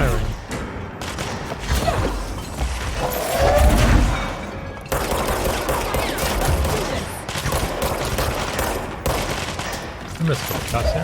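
Sustained gunfire from the video game Control, dense bursts and booms running continuously with a heavier blast near the start, loud and layered under game effects throughout.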